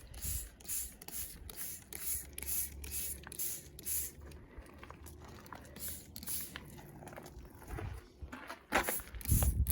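A garden sprayer mists rose plants outdoors in short, regular hissing bursts that repeat steadily and close by, with a few louder spurts near the end.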